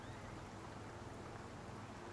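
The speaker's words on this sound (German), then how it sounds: "Fängt an zu regnen." Steady rain falls in the survival video game Icarus, a continuous soft hiss without other distinct sounds.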